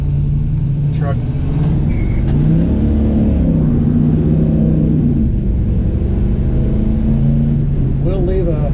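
A 1968 Chevy C10 resto-mod with a 5.3L Vortec V8 revs and accelerates, a deep rumbling engine note rising and falling close by, with a voice talking over parts of it.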